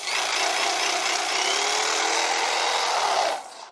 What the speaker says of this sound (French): Voici un couteau électrique.